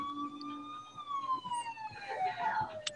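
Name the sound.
sirens from a TV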